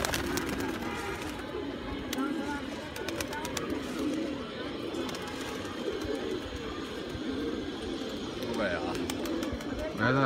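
Pigeons coo softly in a low, repeated burbling rhythm close by, while people talk over them and other background noise continues.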